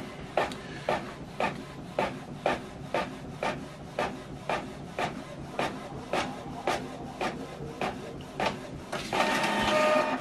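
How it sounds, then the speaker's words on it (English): Receipt printer running a print job, a fast regular series of rasping mechanical strokes repeating about twice per second, close and clear, ending in a brief louder whirring burst. "So it's printing right now this receipt."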